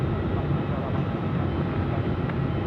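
A China Southern airliner slowly taxies toward the apron at night in Melbourne, a steady low jet-engine rumble and hiss holding evenly throughout, distant and continuous.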